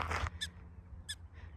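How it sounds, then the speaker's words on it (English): Prairie dogs give short, sharp, high chirping calls, two distinct barks spaced apart with a fainter third, heard outdoors along a trail near a reservoir in Boulder. "Those are prairie dogs."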